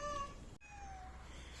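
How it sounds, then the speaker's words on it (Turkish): A Van cat gives a couple of faint, thin meows in a cat villa garden, heard at low level against a dull background hum. "bizimle konuşmaya gelen bir Van kedisi var"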